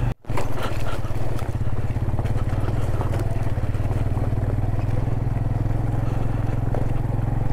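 A motorcycle works over a rough, rocky off-road mountain track toward Broghil Valley in Chitral, its engine a steady loud drone with clattering and rattling over stones, close to the listener throughout.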